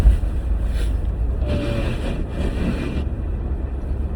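Steady low rumble of a car driving, heard from inside the cabin, with broadband road and wind noise holding constant throughout and no talk.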